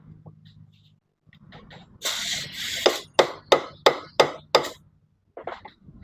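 Hammer blows knocking at a stuck wheel axle with a handmade tool: six sharp, evenly spaced metallic strikes ring out close and loud in a steady rhythm, after some shuffling handling noise.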